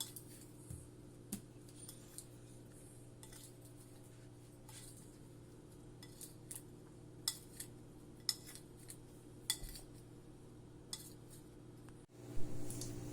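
Paneer stirred with turmeric and red chili powder in a bowl: sparse light clinks and scrapes of a spoon against the dish at irregular intervals, a louder knock near the end, no voices.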